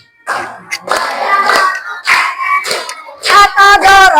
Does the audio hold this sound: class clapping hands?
yes